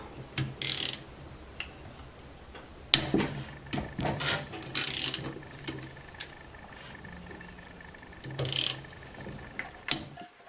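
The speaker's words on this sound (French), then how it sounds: "On va donc maintenant desserrer nos 8 vis de carter que nous allons ensuite retirer complètement afin de pouvoir démonter notre carter." The eight crankcase screws on a Chinese scooter being loosened with a ratchet, giving bursts of close, quiet ratcheting clicks separated by pauses, with no talking.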